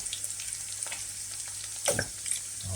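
Potatoes frying in oil in a pan for a Spanish tortilla, a steady close sizzle with a few soft scrapes as the pieces are moved around, louder bursts near the end; no talking.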